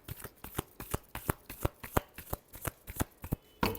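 Tarot cards being shuffled by hand, a close, crisp run of rhythmic riffling slaps repeating steadily about every third of a second, quiet with no talking.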